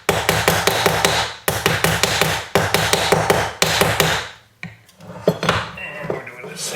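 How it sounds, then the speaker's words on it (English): A hammer strikes a copper matchbox sleeve in quick, ringing metallic blows, delivered in four rhythmic bursts of several hits each, then a brief pause before lighter, scattered taps. "get it on the side and hammer it"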